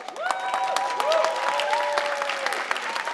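An audience claps on request at a producers' pitching event, a steady wash of applause with whoops and pitched cheering voices riding over it for a few seconds.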